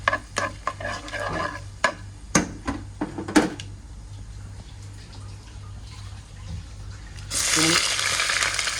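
Curry leaves and red chillies stirred in hot tempering oil in a Kerala kitchen: several sharp utensil scrapes and clinks, then a quieter lull and a burst of loud sizzling at the end.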